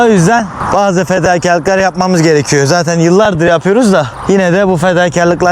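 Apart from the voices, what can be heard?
No everyday noises stand out.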